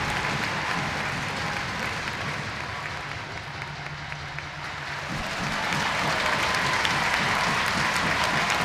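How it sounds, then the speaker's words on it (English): Large ice hockey arena crowd at a Sheffield Steelers versus Belfast Giants EIHL game, a broad roar of clapping and cheering that dips briefly in the middle, then swells louder again. "the crowd, as they have done all night long, are cheering and clapping and celebrating a Steelers performance"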